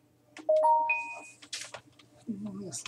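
A mobile phone powering back on plays a short rising electronic chime of a few clear tones, near and fairly loud, followed by a voice speaking briefly.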